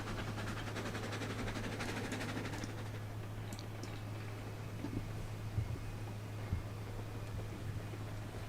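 Train in a video game rolling along with a load of lumber and beams, a steady low rumble with a constant engine drone and faint rail clicks, moderately quiet and without talk.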